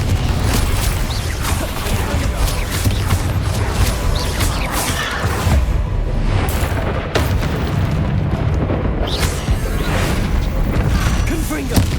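Confringo fire spell explosions in Hogwarts Legacy: continuous loud booms and blasts in heavy combat with dense overlapping impacts, a voice calling out across the din.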